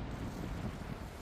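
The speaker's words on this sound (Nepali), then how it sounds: "चिसा हावा चलेको छ" Cold wind blows steadily across a snowy mountain ridge near a hilltop FM tower in Korea, a continuous close rumble buffeting the microphone with no voices.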